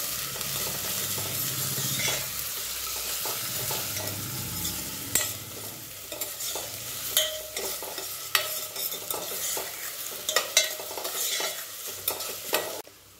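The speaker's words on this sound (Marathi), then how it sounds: "आता तो व्यवस्थित असा परतून घ्यायचा आहे, जास्त लाल आणि गुलाबी करायचा नाही।" Finely chopped onion sautés in oil for a mutton soup, a loud sizzle gradually softening as a spatula scrapes and stirs the pan in irregular strokes, close up and without voices.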